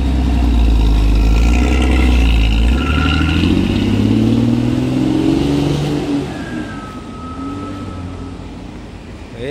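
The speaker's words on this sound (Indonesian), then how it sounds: "Bis balap" A racing bus engine revs loud and close, its deep drone climbing in pitch and then settling, with rattling clatter and traffic noise underneath before it fades slightly toward the end.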